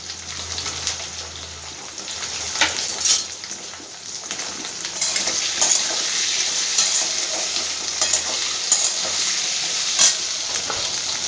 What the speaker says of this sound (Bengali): আলুটা একটু আমি ভেজে নেবো আগে।